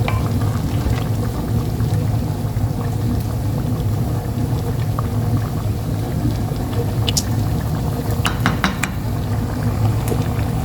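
Mawash rice simmering in a covered pot with hot water, giving a steady low bubbling and boiling rumble with faint crackles and a few brief clinks, continuous and close throughout, with no talking.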